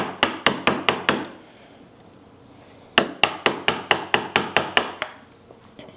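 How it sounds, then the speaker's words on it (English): Wooden mallet striking a woodcarving gouge in a traditional carving demonstration: two bursts of sharp, evenly spaced knocks, five or six blows, a pause, then about nine more, close and crisp. "I use the mallet a lot more now than I used to."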